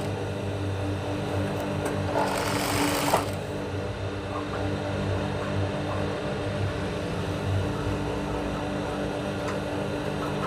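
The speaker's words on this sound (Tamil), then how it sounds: "ஒரு சின்ன ஒரு பைப்பிங் தெரியுற மாதிரிக்கு ஒரு நரம்பு தையல் வெள்ளை துணியில் அடிங்க" A sewing machine stitches a piping seam into white cloth, its motor humming in a steady, even whir for the whole stretch, close and moderately loud, with a brief brighter burst of noise early on.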